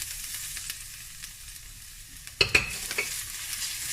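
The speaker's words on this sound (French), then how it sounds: "Je vais pouvoir rajouter l'ail et le gingembre." Quiet sizzle of garlic and ginger frying in a hot wok, then a few clattering stirs and scrapes near the end, close by.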